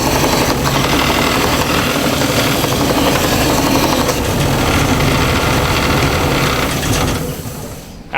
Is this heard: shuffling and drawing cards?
no